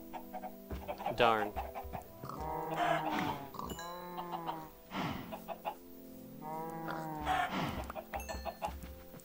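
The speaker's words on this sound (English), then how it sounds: "I got lots of chickens here." Modded Minecraft chickens cluck repeatedly in short bursts while someone talks over them.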